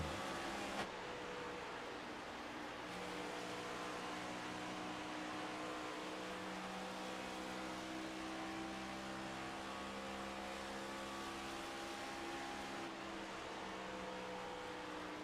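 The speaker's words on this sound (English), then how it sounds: "Downshifting in 1 and 2." A race car in the iRacing sim on the Las Vegas oval, its engine droning steadily throughout with layered harmonic tones and no clear gear-change breaks, loud and continuous with no talk.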